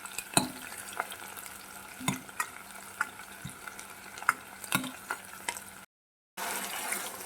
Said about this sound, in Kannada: ಸ್ವಲ್ಪ ಇದು ಗೋಲ್ಡನ್ ಬ್ರೌನ್ ಆಗೋವರೆಗೂ ಹುರ್ಕೋಬೇಕಾಗುತ್ತೆ